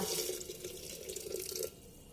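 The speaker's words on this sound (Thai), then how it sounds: "จากนั้นนะคะก็จะเทน้ำร้อนนะคะ ที่ต้มจนเดือดเลยค่ะลงไปค่ะ เทพอท่วมนะคะ" Boiling water is poured over cucumbers for Turkish-style pickling, a steady, close splashing pour that runs for about a second and a half, then stops and leaves a quieter hiss.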